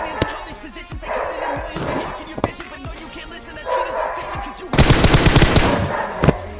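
Bursts of automatic gunfire from a PUBG Mobile match crackle loudly, with scattered single shots and a dense rapid volley toward the end, under game sounds.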